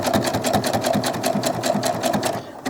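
A sewing machine stitches doll clothes in a steady, fast mechanical whir with regular needle beats, loud and close, then briefly slows near the end.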